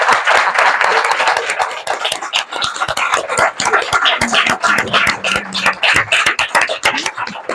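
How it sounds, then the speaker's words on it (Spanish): A small audience at a talk on ageism at a veterans' club applauds with brisk, uneven hand claps, fairly close and continuous for several seconds, with no one speaking over it. "yo creo que más que merecido un aplauso"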